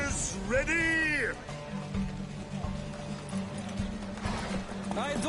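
Galloping horses in a race in the video game The Witcher 3, rapid hoofbeats under a rider's speech, with a whinny-like swoop at the start and wind rushing past.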